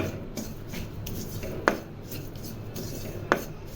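A spoon works through makhana powder, almonds, fennel and cardamom powder in a kadhai, making soft continuous rubbing and scraping, with two sharp clinks of metal against the pan. No one speaks.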